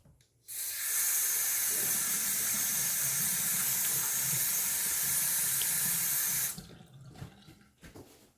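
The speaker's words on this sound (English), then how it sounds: "A little splash of cold water." A bathroom faucet runs steadily for about six seconds while cold water is splashed on the face after a wet shave, a bright hissing stream that starts and stops abruptly with no voices.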